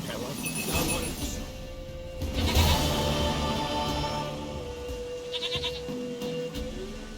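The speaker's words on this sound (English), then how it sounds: "Goat of mine, dearest, sweetest goat." A goat bleats in The Witcher 3, its calls mixed with game music and ambience and running under a man's speech throughout.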